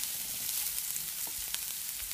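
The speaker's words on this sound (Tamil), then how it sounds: "அதையும் போட்டு சேர்த்து நல்லா வதக்கணும்." Vegetables for vegetable noodles sautéing in a hot pan, a steady close sizzle with occasional soft clinks and stirring scrapes throughout.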